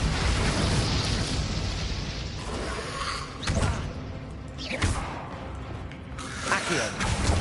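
Spell effects in the Hogwarts Legacy game come as a dense, noisy wash with whooshing bursts and booming impacts rising every second or so.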